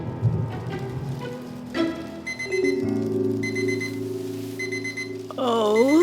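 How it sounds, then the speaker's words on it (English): An alarm clock rings in a house on an early drizzly morning, a loud repeating electronic beeping pattern with steady tones, rain faintly underneath, ending in a warbling sweep, with no talk. "Oh, the alarm."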